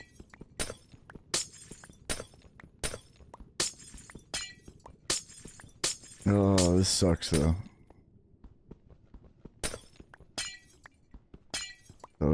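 Glass panes shatter one after another in Minecraft, each a sharp crisp crash spaced in a quick, uneven rhythm, with a short spoken remark midway over the breaking.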